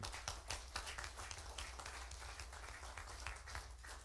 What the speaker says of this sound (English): certainly deserves at least one more round of applause for your family and all that you've done